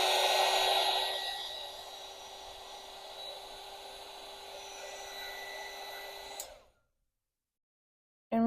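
Hair dryer drying a watercolour painting, a steady loud blowing whir that eases slightly in level, runs for over six seconds, then switches off into silence before a brief noise at the end.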